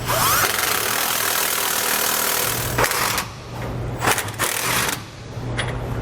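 A socket tool tightens rear anti-sway bar frame brackets on a 2018 Forest River Georgetown GT5 motorhome fitted with a Roadmaster bar: a loud, continuous mechanical rattling buzz broken by short pauses and bursts near the end.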